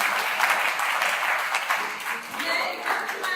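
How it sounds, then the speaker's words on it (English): An audience at an educational conference applauds, a steady, full round of clapping from many hands that holds evenly throughout, with some voices mixed in underneath. "please give a big round of applause to ma'am"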